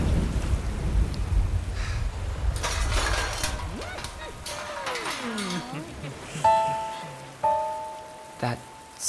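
Heavy rain and a thunderstorm in a dramatized scene, with a steady roar of rain and low rumbles while tonal effects and sharp hits cut in. A voice speaks over the storm.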